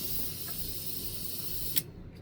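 An airbrush compressor hisses steadily as air sprays from the held trigger, a close continuous hiss that cuts off abruptly near the end with a small click.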